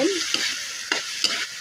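Innards for Ilocano sinanglaw are stirred in a hot cooking pot, loud hissing sizzle broken by two or three quick scraping strokes of the ladle.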